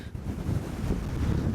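Strong wind on the Isle of Skye in Scotland buffeting the microphone, a loud continuous low roar and rumble with gusty swells, no voices.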